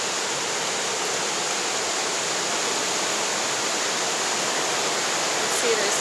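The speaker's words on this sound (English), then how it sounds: "if you don't like the sound of a raging river" A raging river in northern Maine, with falls nearby, roars as a loud, dense, unbroken rush of water that stays constant and close throughout.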